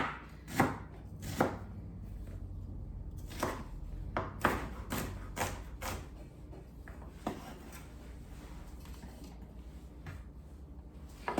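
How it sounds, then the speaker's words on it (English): A knife roughly chopping a shallot on a cutting board, a series of sharp close taps coming in irregular bursts, then softer scraping and quieter knocks. "I am just gonna give it a rough chop."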